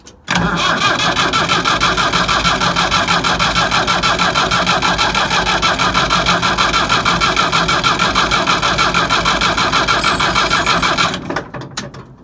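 A Leyland 262 tractor's diesel engine is cranked by the starter for about eleven seconds with a loud, steady, rhythmic churning, close up. It then cuts off and sputters briefly without settling into an idle.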